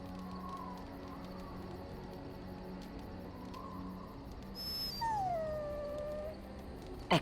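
A dog whines and howls in Dragon Age Origins before its bath, with soft intermittent whimpers over quiet ambient game sound, then a rising, falling howl near the end.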